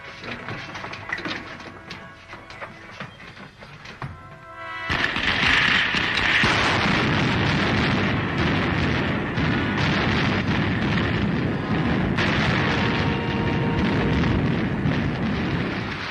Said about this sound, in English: Fire the starting rockets.